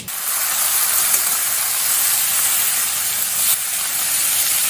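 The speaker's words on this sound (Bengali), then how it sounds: "এবার আমার গ্রেট করে রাখা চাল কুমড়োগুলো সব দিয়ে দেবো" Grated ash gourd hitting a hot pan of black cumin seeds, raising a loud, steady hiss of steam and sizzling that fills the whole stretch without pause.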